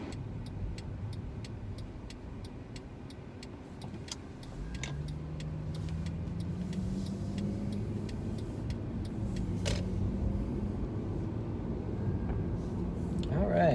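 A 2012 Mercedes-Benz C300 driving, its engine a steady low hum with road noise and a rise in pitch midway as it accelerates, heard from inside the cabin alongside faint ticking.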